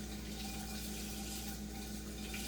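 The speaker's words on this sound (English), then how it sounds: "I'm gonna go ahead and rinse this off." Tap water runs steadily over a portobello mushroom being rinsed at a sink, a continuous even splash heard close and on its own.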